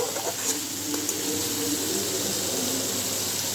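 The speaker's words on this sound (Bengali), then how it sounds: "এখন আমি অল্প একটু জল দিব" A little water poured into a fried spice mixture for a small-fish curry makes a steady watery rush over soft sizzling. It lasts a few seconds, close and fairly loud.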